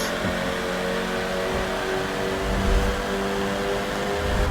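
Peugeot 308 race cars in the Forza Motorsport 7 video game, an even grid of identical cars, their engines humming and revving steadily at mid pitch with a few louder surges, continuous throughout.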